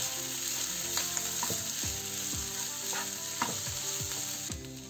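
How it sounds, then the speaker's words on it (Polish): Cracked egg being stirred into rice frying in a pan for fried rice with meat and vegetables, a steady loud sizzle with repeated scraping strokes of the spatula, no talking. "I wbijamy jajko. Dokładnie mieszamy."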